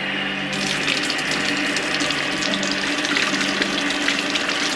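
Water runs steadily from a tap for washing, a loud, continuous close-up gush with no voices over it.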